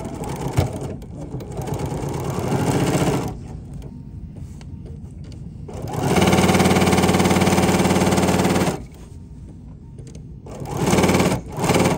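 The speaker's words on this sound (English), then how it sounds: "So you're just going to stitch." A sewing machine stitches a fabric door stop, its loud, steady mechanical whir running in bursts that stop and start again with short pauses between them.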